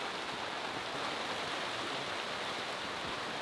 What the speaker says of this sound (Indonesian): jadi nggak apa-apa hujan sekarang